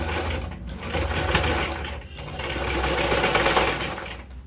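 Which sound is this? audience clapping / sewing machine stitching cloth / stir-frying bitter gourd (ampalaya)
sewing machine stitching cloth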